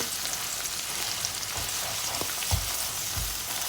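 Eggs frying in a generous amount of oil in a pan, a steady close sizzle with occasional louder spatters and pops, no voices.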